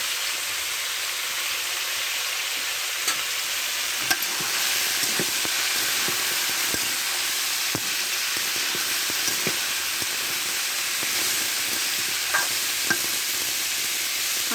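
Chopped sweet pumpkin fries in a pan with a constant hissing sizzle, punctuated by scattered clicks and taps of stirring, steady and unbroken throughout.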